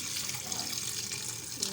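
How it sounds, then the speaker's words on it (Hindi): About a litre of water pours from a running tap into a pressure cooker pot for black chickpea curry, a steady close hiss and splash of moderate level. "और हम इसके अंदर तकरीबन 1 लीटर पानी जो है वो ऐड कर लेंगे।"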